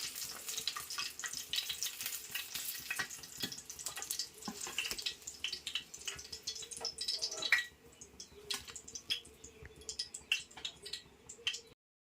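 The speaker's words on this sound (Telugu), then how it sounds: "ఇప్పుడు వంకాయలను అయితే ఆయిల్లో వేద్దాం ఒక డెబ్బై శాతం అయితే వాటిని వేయించుకోవాలి" Brinjal pieces frying in hot oil give a continuous, fairly soft sizzle, with scattered spits and a few clinks from stirring.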